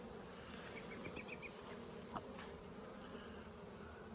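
Honey bees in a top bar hive during a spring inspection, buzzing steadily and close, a continuous insect drone with a few brief louder wingbeat surges and no speech.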